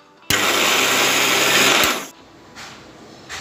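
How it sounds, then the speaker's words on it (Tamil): A mixer grinder whirs loudly for about a second and a half blending tomato, salt and sugar, starting abruptly with a click and stopping suddenly, followed by faint clatter. "இதை மிக்சியில் மிக்ஸ் பண்ணிடுங்க."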